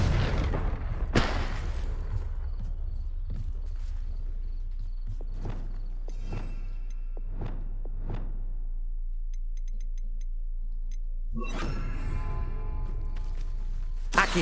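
A Confringo blasting spell explodes in Hogwarts Legacy, giving a series of sharp booming bursts spread over several seconds, with louder rumbling blasts near the start and end against a steady low game drone.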